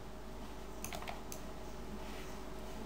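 Computer keys and a mouse click quietly at close range, a few sharp taps bunched together near the middle over a faint steady room hum, with no voices.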